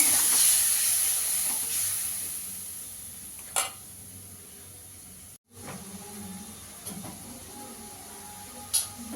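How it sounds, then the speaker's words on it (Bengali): A spice paste of masala with salt and a splash of water fries softly in a pan for a Bengali prawn curry, giving a steady low hiss with a few sharp stirring clicks. "দিয়ে এবার মশলাটা ভালো করে কষিয়ে নেব।"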